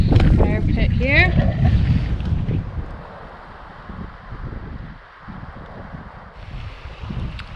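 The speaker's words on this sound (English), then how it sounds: "It's the Wind River and it's windy." Wind gusting at a riverside campsite on the Wind River in the Yukon wilderness, a steady broadband rush that continues after a voice speaks briefly at the start.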